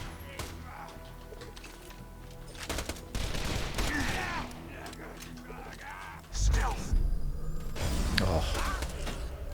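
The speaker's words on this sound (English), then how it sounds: "I switch to the Herald to get those drunk shots off with the Herald." Harold pistol gunfire in Borderlands 2, with bursts of rapid shots mixed with mechanical clanks and game effects, then a heavy blast. A voice speaks over the shooting.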